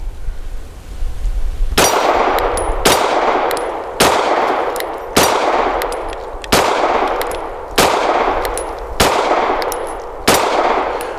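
Shots from a BUL Armory Axe C Tomahawk pistol with PMC bronze 115-grain ammunition ring off a small moving steel target, with nine loud, sharp clangs roughly a second apart and a ringing metallic tail after each hit.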